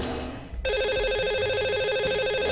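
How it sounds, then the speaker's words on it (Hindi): Phone ringing as a call is placed to a lucky caller on a TV call-in show: a loud repeating electronic ring tone starts after a brief burst of noise and continues steadily to the end. "ये जानने के लिए उनको फोन लगाते हैं।"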